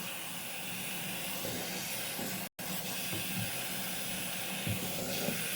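Water spray rinsing a Barbie doll during hair care, a continuous close hiss of spray broken by one brief pause midway, steady and fairly quiet with no talk.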